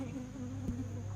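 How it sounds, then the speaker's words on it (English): Bees inside a young, honey-filled beehive hum in a steady, faint, close buzz among the frames, with one brief louder thump partway through and no talk. "This thing is loaded with bees in here."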